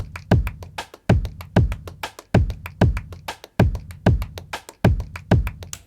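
Electronic hat-type percussion is layered over a drum rhythm in a Logic Pro remake of a song. Punchy low kicks fall about once a second, and crisp hat ticks repeat between them in a steady looping groove.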